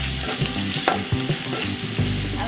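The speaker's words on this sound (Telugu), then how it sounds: "అల్లం వెల్లిపాయ కొంచెం పచ్చివాసన పోయేదాకా వేయించుకున్నాము." Ginger garlic paste frying with onions in hot oil, a close, busy sizzle with brisk spatula scrapes and stirring knocks throughout, no talking.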